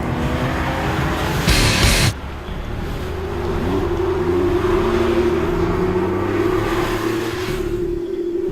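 A Porsche 996 911 GT3 RS with a 210-horsepower flat-six engine, starting with a short roaring burst, then a loud sustained rising engine note as it accelerates.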